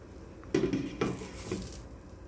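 A metal lid set onto a cooking pot of simmering saluyot and papaya, a couple of close clanks and a brief rattle as it settles, alone in a quiet kitchen.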